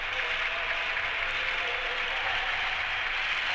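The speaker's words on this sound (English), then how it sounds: "The applause is already starting up for him. He's going to get a standing ovation, I think." A baseball stadium crowd in 1967 gives a St. Louis Cardinals player a standing ovation, with steady, dense applause that rolls on without a break and sounds broad and somewhat distant.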